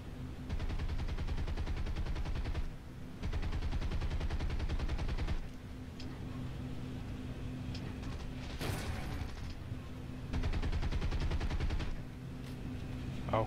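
Bomber tail gunners firing machine guns in the combat flight game War Thunder: loud, rapid, sustained bursts of automatic fire in several long strings separated by short pauses, over a steady engine drone.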